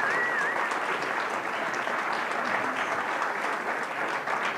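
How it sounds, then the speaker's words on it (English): Sustained round of audience applause at a fellowship student lecture, dense and steady for several seconds, loud and close with no talking over it. "So can we please have a round of applause for Ms."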